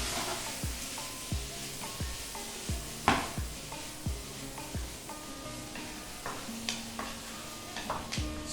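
Paneer cubes tossed in a hot pan with soy sauce and vinegar for salt and pepper paneer, giving a steady sizzle with repeated sharp knocks and scrapes of stirring at a regular rhythm, close and alone.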